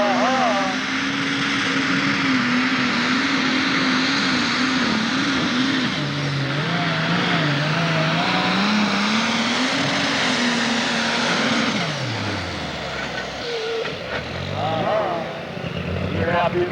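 A truck from the 1995 Central City, Kentucky pull in the 6,000 and 7,500 lb classes roars loud and close, its revving engine rising, falling and finally dropping off as it gears out, with an announcer talking over it throughout.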